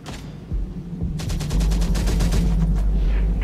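Gunfire rattles in a squad firefight in the video game Terminator: Dark Fate - Defiance, starting as scattered shots and building into sustained rapid automatic bursts over a low rumbling battlefield drone, loud and close with no talk.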